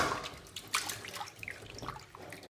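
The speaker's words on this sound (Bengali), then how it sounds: "মাছগুলো ভালো করে পরিষ্কার করে ধুয়ে নেব" Tap water running and splashing while fish are washed, a close, uneven trickle with drips and handling sounds that stops abruptly.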